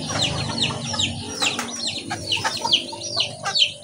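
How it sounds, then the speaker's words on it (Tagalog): Several chickens cluck and chirp nearby in a steady, busy chorus, with occasional sharper calls over a low outdoor background. "Ayan yung mga manok."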